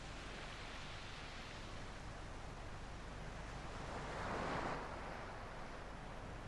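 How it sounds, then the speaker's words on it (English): Waves wash up and drag back over a shingle beach, a steady broadband rush of water with one louder surge building and receding midway, heard close and alone with no voices. "In the water off the shingle beach, the movement is quite clear. The swash and the weaker backwash."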